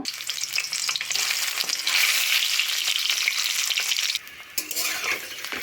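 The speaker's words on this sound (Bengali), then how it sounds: "আমি কড়াইয়ে সর্ষের তেল দিয়েছি, ডিমগুলো ভেজে নেব।" Eggs coated in salt and turmeric frying in mustard oil in a wok give a loud, dense, crackling sizzle at close range, with occasional stirring scrapes and a brief dip in the hiss near the end. No one speaks.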